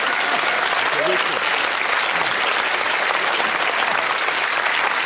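A studio audience at the close of a televised Q&A panel show gives steady, sustained applause, many hands clapping together at an even level with no break.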